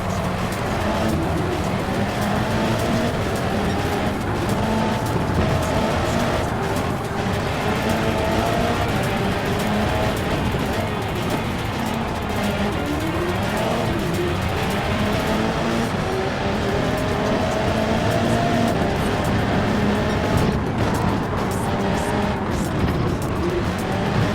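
A race car in Gran Turismo 7 at the Maggiore circuit, its engine howling continuously and loud as it sweeps through a big right-hander and a run of sweeping corners, the pitch rising and falling with faint tire scrub.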